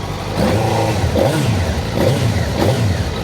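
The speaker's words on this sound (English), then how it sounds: "I'll leave you with this beautiful tone of the GSXR1000 K1." Suzuki GSX-R1000 K1 motorcycle engine revving up and down in repeated throttle blips over a steady, loud close-range idle, with no talking.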